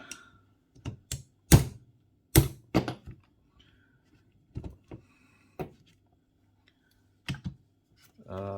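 Several sharp clicks and snaps from a punch tool cutting through thin 0.1 mm plastic card, scattered irregularly at close range against a quiet background with faint handling noise.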